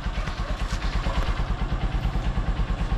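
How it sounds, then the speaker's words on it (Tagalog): A Honda Supremo motorcycle engine idles with a steady, rapid low thumping pulse and light mechanical clatter. It is close and continuous, with no talk over it. "napaandar na natin mga idol yung Honda Supremo natin."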